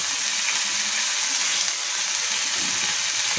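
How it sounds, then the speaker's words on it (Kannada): Mint, coriander and fenugreek leaves fry in a pan with onion and green chilli for a Karnataka-style mutton pulao, giving a steady, close hiss of sizzling that runs without pause, with no voices. "ಮೆಂತ್ಯ ಸೊಪ್ಪು ಎಲ್ಲ ಹಾಕೊಂಡು ಫ್ರೈ ಮಾಡ್ಕೊಬೇಕು."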